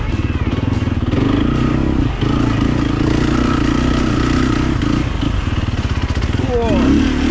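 An enduro motorcycle engine on a trail ride, a loud close steady mid-pitched drone with brief dips in revs throughout, while people talk over it.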